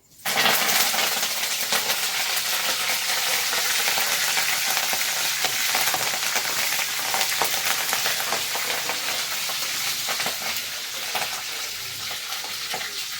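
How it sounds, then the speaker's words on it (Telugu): Curry leaves dropped into a hot pan of oil, a loud, steady crackling sizzle that starts abruptly and keeps going for several seconds, close and with no talking. "కొంచెం అయితే కరాపాకు వేసుకుంటున్నాను అండి"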